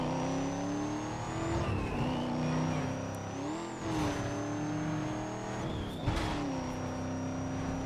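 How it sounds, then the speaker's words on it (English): A car's supercharger whine in Need for Speed: Most Wanted on PS2, a high steady whistle that rises and falls with the revving engine over continuous game engine roar, with no talk. "I think that sound effect for the supercharger is actually pretty cool, personally."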